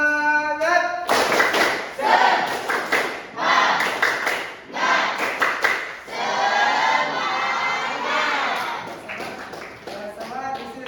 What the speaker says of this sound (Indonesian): Oke, kita tepuk tangan. Tepuk semangat.